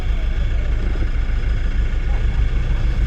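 A Toyota Fortuner engine idles after starting, a steady, loud low rumble that holds evenly throughout the short stretch.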